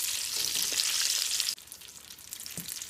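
Rolled tacos frying in oil with a loud continuous sizzle that drops abruptly to a quieter, spattering fry halfway through, with scattered pops and bubbling.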